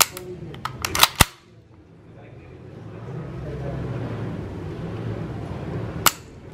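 Sharp dry-fire clicks from an HK MP5 9mm's trigger and action: a quick cluster of crisp snaps near the start, then a pause over low room noise, then one more click near the end.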